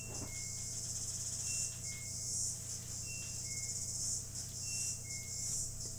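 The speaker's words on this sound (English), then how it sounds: "You can hear those cicadas just going for it. Super loud." Insects buzz in a dense, continuous high-pitched drone, with faint repeating chirps layered over the steady wash of sound.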